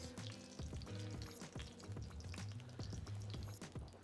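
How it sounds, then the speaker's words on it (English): Onions sautéing in a Le Creuset Signature Dutch oven while short ribs are braised, giving a steady close sizzle with repeated scraping and stirring knocks throughout. "First, we'll add the onions and saute them just for a minute so that they soften up."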